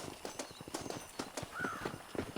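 Horse hooves in the Red Dead Redemption video game, a quiet, steady clip-clop of a walking horse with a brief whinny-like tone in the middle.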